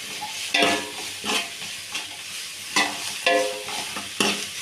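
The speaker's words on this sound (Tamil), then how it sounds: "அந்த உருளைக்கிழங்கை போட்டு நல்லா கிண்டிக்கலாம்" Boiled potatoes are stirred into onions sautéing in a pan for drumstick-leaf puri filling, with rhythmic scraping strokes roughly every half second over a soft, steady sizzle; no one talks.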